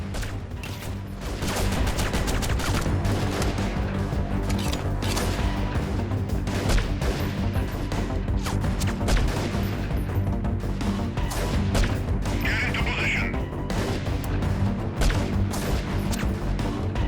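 A silenced bolt-action sniper rifle fires in the guerrilla warfare game Freeman Guerrilla Warfare, amid a loud, continuous wash of battle gunfire and crashes that fills the whole stretch without pause.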